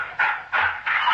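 A lurcher barks three times in quick succession, sharp and fairly close, each bark spaced about a third of a second apart.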